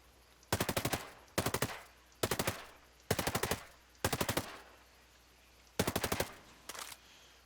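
Assault rifle fire in Ghost Recon Breakpoint, seven loud bursts of rapid automatic shots, each lasting a fraction of a second and separated by short pauses, with the final burst shorter than the others.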